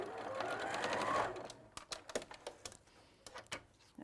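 A sewing machine runs a short, fast burst while sewing a seam on a patchwork storage bag, then stops, followed by light clicks and fabric handling sounds.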